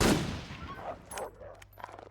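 A rifle shot rings out in The Long Dark, a single sharp crack at the start that decays into a short echoing tail, followed by faint scattered sounds.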